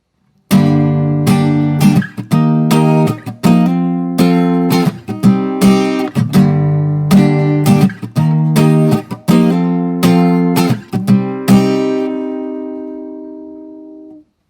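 Strummed acoustic guitar chords change in a steady progression, each strum ringing brightly, ending on a long sustained chord that fades out.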